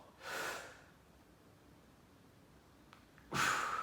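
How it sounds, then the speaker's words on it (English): Two deep, audible breaths, one drawn in and one let out, separated by a quiet pause, close and alone. "Big breath in. Breathe out at the top."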